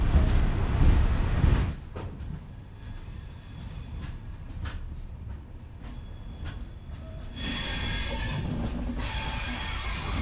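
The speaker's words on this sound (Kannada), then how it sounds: "ಈಗ ನಮ್ಮ ಟ್ರೈನ್ ಹೋಗ್ತಾ ಇದೆ ಸೊ ಬಾಯ್ ಬಾಯ್ ನಾಗರ್ ಕೋಯಿಲ್ ಜಂಕ್ಷನ್" A train pulls out of Nagercoil Junction, first a loud rumble, then steady rolling noise with sharp wheel clicks, and a brighter hiss rising near the end.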